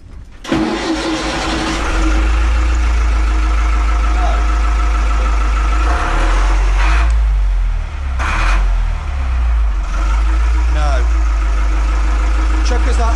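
A sailboat's inboard engine turns over and settles into a steady, loud running drone with a deep rumble, running to charge the starter battery through the alternator.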